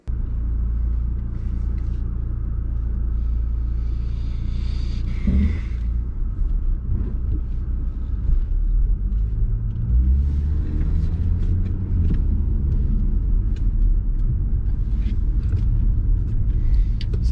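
A Honda Accord Euro with new KYB shocks drives along, a steady low rumble of engine and road noise heard from inside the car throughout, with brief bumps and no talk.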